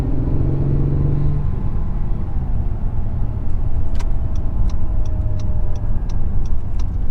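An Acura NSX on all-season tires rolls through town, its steady engine rumble and road noise continuous and close, with faint ticking sounds later on.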